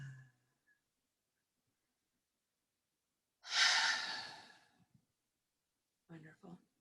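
A single slow, breathy exhale during breathing meditation lasts about a second, close and soft against near silence, with brief voice sounds before and after it.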